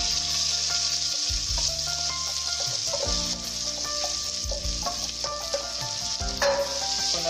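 Chopped onions hit hot oil for biryani and sizzle loudly and steadily, a dense frying hiss with clattering stirs and scrapes of a utensil in the pan throughout.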